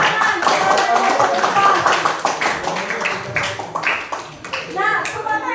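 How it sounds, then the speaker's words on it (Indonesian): Applause for a student group in a classroom, with scattered hand clapping that rises and thins over several seconds while voices talk over it. "berikan tepuk tangan kepada kelompok"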